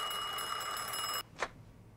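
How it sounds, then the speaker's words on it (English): Telephone ringing in the Mafia II video game, a sustained bright electronic ring that stops abruptly, followed by a short faint click and quiet room tone. "Phone's ringing! You get it, Joe!"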